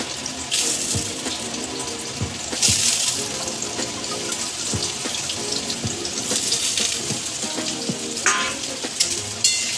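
Potatoes fry in oil in a pan, a continuous close sizzle broken by louder crackling bursts and scraping as they are stirred.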